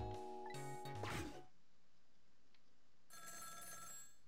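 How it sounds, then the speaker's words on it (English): A telephone rings in the Ghost Trick video game, a loud electronic ring that cuts off abruptly and gives way to quiet game ambience, then a softer tone resumes. "The telephone is ringing."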